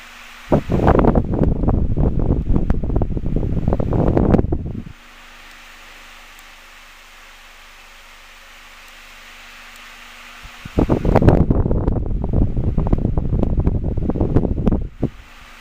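A mid-90s Super 12-inch desk fan running, heard as a steady airy whoosh that starts, cuts off for several seconds of near silence, then returns, with a faint constant hum underneath.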